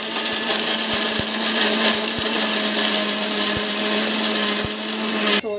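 Mixer grinder blending mango coconut chutney, a loud continuous high-pitched motor whir with a few sharp knocks, cutting off abruptly at the end.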